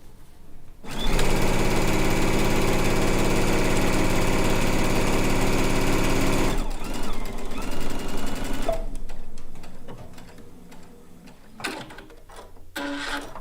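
A sewing machine runs steadily for several seconds while stitching quilt pieces for a blue and white quilt top, loud and close, then stops and is followed by quieter handling noises and brief bumps.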